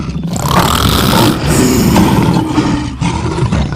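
A lion roars loudly and close with a deep, rough growl, echoing as though from inside a well. The roar is sustained for a few seconds and carries strong low rumble, with no other voices.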